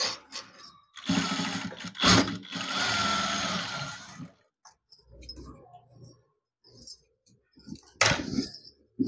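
A sewing machine stitching a one-year-old's Diana frock whirs in two steady bursts of a few seconds each, close and fairly loud, followed by quieter handling noises and a short final run.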